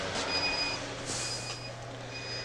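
An egg incubator alarm beeps in short, high, evenly repeated tones over a steady mechanical hum, with no one speaking.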